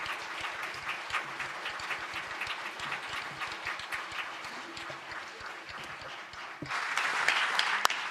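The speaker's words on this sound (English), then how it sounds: "I think the applause speaks for itself" An audience applauds steadily after a speech at a conflict-prevention event, with dense, continuous clapping that swells louder near the end.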